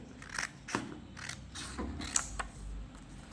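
Scissors cut through folded paper in a run of close, crisp snips, about eight separate cuts with a slight mechanical creak, no talking.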